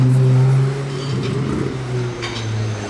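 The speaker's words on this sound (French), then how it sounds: "il y a une belle 296 GTS bleue là, qui passe juste derrière" A blue Ferrari 296 GTS roadster with its hardtop fitted drives past close by on a Monaco street, its engine a steady low drone that swells briefly and then eases off as it moves on.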